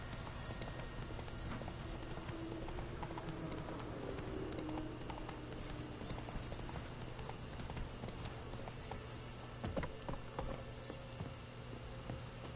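Roach the horse gallops in The Witcher 3, a steady run of hoofbeats set against a dense, hissing game soundscape with water in the scene.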